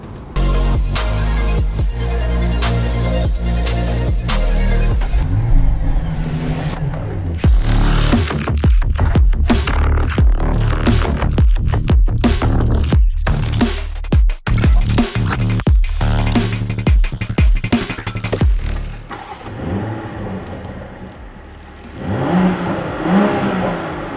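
A BMW M340i xDrive LCI engine pulls hard while driving, loud and close, with rising and falling revs, throttle bursts and a steady mechanical roar that eases toward the end, no voices.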